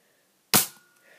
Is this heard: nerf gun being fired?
yes